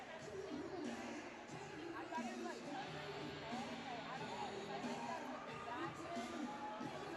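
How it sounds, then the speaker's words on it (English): Steady crowd buzz fills a minor-league hockey arena during the second period of a Jacksonville Icemen versus Orlando Solar Bears game, a continuous murmur of many voices with no single sound standing out. "The crowd is still buzzing over that."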